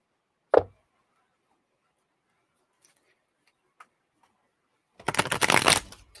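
Spirit Message Oracle cards give a single sharp tap, then after a quiet pause a close, dense burst of riffle shuffling that lasts about a second, with no talking.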